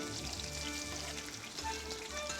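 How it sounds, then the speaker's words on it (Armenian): Onion fries in very hot oil in a pot, giving a continuous airy sizzle at moderate level with a steady tonal hum running underneath. "սոխն ենք տապակում"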